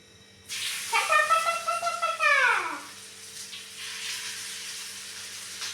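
Fish drops into hot coconut oil on a tawa and bursts into a loud sizzling hiss with a brief falling whine, then settles into a quieter, steady frying crackle.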